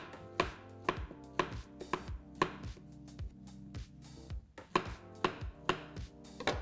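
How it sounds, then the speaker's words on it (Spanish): Knife slicing bananas into rounds on a board for a smoothie bowl: about a dozen crisp, evenly spaced chops, fairly quiet, over soft background music. "Vamos a partir los bananos en rodajas"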